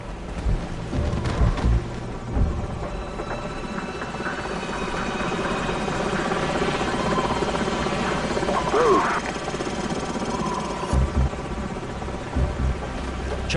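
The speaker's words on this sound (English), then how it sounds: "Enemy helicopters." Enemy helicopters in the video game Call of Duty 4: Modern Warfare, a steady rotor and engine drone sustained throughout, mixed with game ambience and occasional radio chatter.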